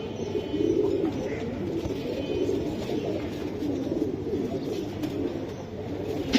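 Pigeons coo softly and continuously at a pigeon seller's place, a low murmuring chorus of several birds with no talk over it.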